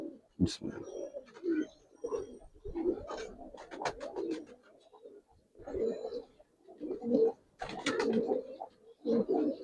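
Pigeons cooing softly just after a pair of birds is let go, several soft rounded calls repeating in uneven bursts close by, with brief flutters and scattered sharp chirps between them.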